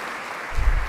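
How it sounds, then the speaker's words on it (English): An audience at a Teacher of the Year celebration applauds an honoree, a brief burst of crowd clapping that swells louder toward the end. "Love the clapping for him"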